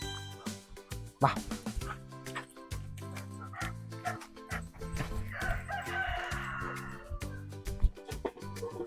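A rooster crows among clucking chickens and ducks being let out in the morning, the calls close and busy with scattered noises in between.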